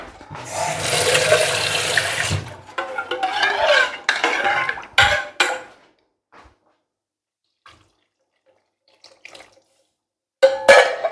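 Water pours and splashes into a cooking pot of tolma for several seconds, followed by lighter clinks and handling of the pot, then quiet with a final clatter.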